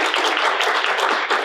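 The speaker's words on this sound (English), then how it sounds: "Let's give him a round of applause" A round of applause from a live audience welcoming a commissioner at a Chattanooga, Tennessee show, a dense, loud wash of clapping that runs steadily throughout with no speech.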